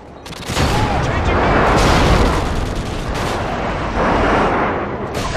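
Grenade blasts and heavy gunfire crash through a Call of Duty Modern Warfare 2 online Headquarters match, a loud, dense barrage of booms and rattling shots that runs nonstop with no break.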